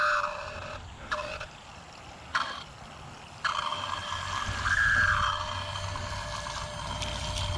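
An Okmee solar fountain pump runs in water with a faint, uneven gurgling and sloshing, broken by a few short bursts and a rising wash of bubbling in the second half.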